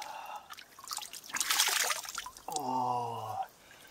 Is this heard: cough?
no